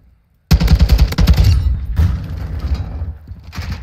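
A weapon firing in Modern Warfare 2, with a rapid burst of loud, punchy shots after a short silence, then a few further scattered reports tailing off.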